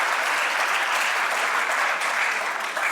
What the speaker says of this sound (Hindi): आप सबके लिए भाई जोरदार ताली आप लोग खुद ही बजा लीजिए